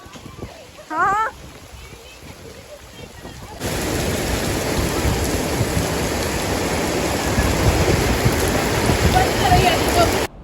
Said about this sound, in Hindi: इतनी ज्यादा तेज बारिश हो गई।